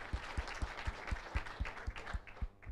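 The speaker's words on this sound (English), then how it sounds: "Let's give her a big round of applause." Applause from a small crowd, fairly faint, with evenly spaced claps forming a light rhythmic patter.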